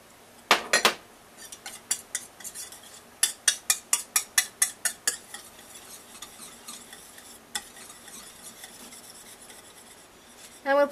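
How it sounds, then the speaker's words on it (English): A spoon scrapes and stirs egg yolk and cheese into a cheese souffle base in a pan, with a fast run of rhythmic rasping strokes in the middle, then slower scattered scrapes, close and fairly quiet. "Next, I'm going to mix in my egg yolk. And now the rest of my cheese."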